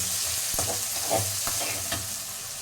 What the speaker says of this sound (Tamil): இப்போ இது நல்லா வதங்கணும், வெங்காயம் வதங்கணும்